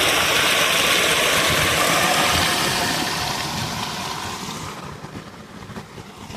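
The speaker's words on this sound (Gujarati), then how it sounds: "અત્યારે હાલ મોટર ચાલુ જ છે" A farm well's electric water pump motor runs steadily at night, a dense broadband whir with a low rumble that stays loud for several seconds and then eases slightly toward the end.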